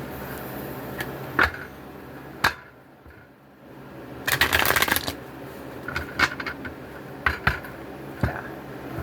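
A tarot deck is shuffled in several crisp riffling bursts separated by quiet pauses, close and clear in a calm room with no talking.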